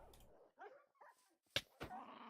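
A tamed wolf dog in a Minecraft-style game barking, a few short sharp yips and barks in quick succession, fairly faint with brief gaps of silence between.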